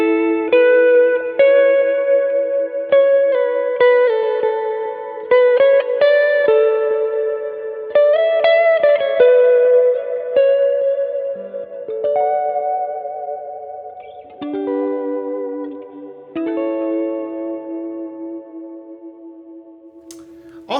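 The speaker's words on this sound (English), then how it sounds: "Let's use this example to talk about snapshots and go to the Ambi Mod snapshot. It's like a chewy, vibrato-y kind of thing, which you will hear" Electric guitar through a Marshall 1974x clone amp patch on a chewy, vibrato-heavy ambient modulation setting, playing melodic arpeggiated chords with reverb and echo tails, loud and alone.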